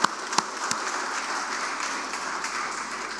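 An audience applauds at a book launch, a steady spread of clapping with a few sharper claps near the start, moderately faint and continuous.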